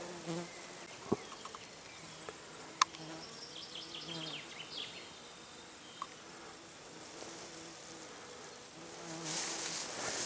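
Bees buzzing steadily nearby around flowering linden, a soft continuous drone with occasional faint clicks and a brief brighter rustle toward the end.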